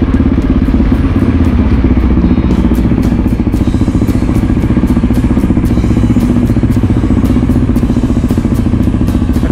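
A motorcycle engine chugs with a steady, rapid pulse as it rides through narrow village streets in Sardinia, close and loud throughout, with occasional clattering ticks above the engine note.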